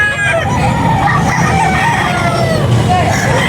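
A white hatch gamefowl rooster with dark legs crows loudly and close. Its long, strained call runs for several seconds over a noisy barnyard background.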